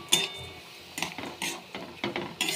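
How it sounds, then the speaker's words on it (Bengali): Soaked sago being stirred in a metal pan, with a series of short scraping, clinking strokes of a spoon against the pan at an uneven rhythm, close and moderately loud. "দেখে একটু নাড়াচাড়া করে নেব।"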